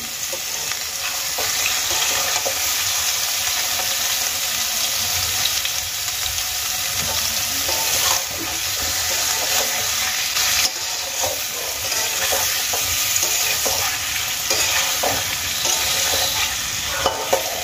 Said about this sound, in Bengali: আর সেদ্ধ করা আলুগুলোকে আমি মাঝখান থেকে টুকরো করে তেলের মধ্যে ভাজার জন্য দিয়ে দিয়েছি